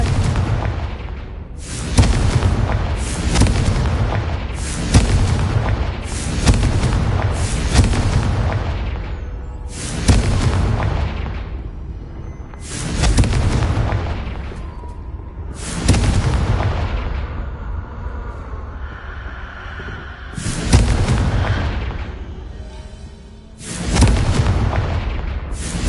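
A rapid series of loud Confringo blasting-spell explosions from Hogwarts Legacy, roughly eight booming bursts in irregular succession over the span, each with a deep rumbling tail, and no voices heard.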